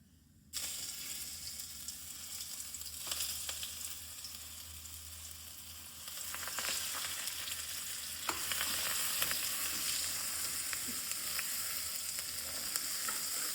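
Potato masala for aloo paratha frying in a pan in village home style, a steady close sizzle that grows louder partway through, with occasional scraping and tapping as the spiced potatoes are mixed.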